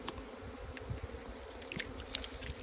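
Small bees swarm at a captured hive, giving off a steady, close buzzing hum with scattered faint clicks and rustles throughout. No voices are heard.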